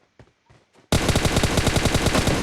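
Rapid automatic gunfire in PUBG on the Miramar map: a loud, sustained burst of evenly spaced shots starts abruptly after a near-silent lead-in with a few faint taps.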